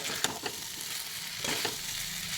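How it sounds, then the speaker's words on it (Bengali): Cauliflower frying in a pan crackles and sizzles as a spoon stirs it, with a few distinct scraping strokes over a steady quiet hiss. "এবারে আমি একটু নেড়ে নিই ভালো করে।"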